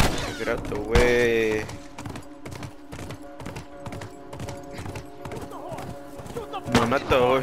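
Hooves of a horse in The Last of Us Remastered clip-clop in a steady quick rhythm through most of the stretch, with a person talking over them and other game sounds around.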